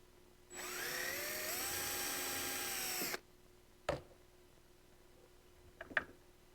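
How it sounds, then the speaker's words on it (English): A drill spins up and whines steadily for about three seconds as it bores into wood, followed by a couple of sharp knocks. "drill a small hole through the center here"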